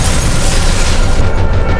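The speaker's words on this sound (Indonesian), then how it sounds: "sebuah ledakan hebat terjadi" A huge explosion from a Blacklist TV episode roars loud and sustained, a dense rumbling blast that fills the whole stretch with no letup.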